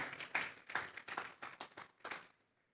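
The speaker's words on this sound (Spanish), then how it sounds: "Vamos a darle una ofrenda de palmas a Dios en esta tarde." Church congregation members clap in a loose series of sharp, separate hand claps that come in uneven bursts, close and clear, then taper off into quiet near the end.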